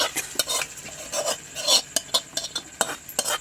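Ginger and garlic are stirred and sautéed in a pan, with a spoon scraping the metal in quick, uneven strokes over a light sizzle, close and with no voices.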